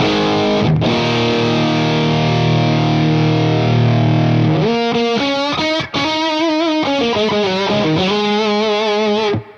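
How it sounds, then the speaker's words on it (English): Electric guitar played through two stacked overdrive pedals on a tiny V4 stereo rig, a thick, heavily saturated tone: sustained droning chords give way to a busier run of picked notes, loud and close, with no talk. "Now that's just me adding the two drive pedals together."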